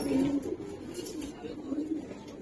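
A high-flyer Giribaz pigeon coos in soft, low repeated calls close by, with faint voices in the background.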